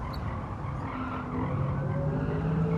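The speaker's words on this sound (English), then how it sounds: "It's just screaming these tires." Tires on a modified Volkswagen GTI Mark 7 electric race car squeal steadily in Gran Turismo 7, a sustained high screech over a continuous motor whine that grows slightly louder midway, with no talking.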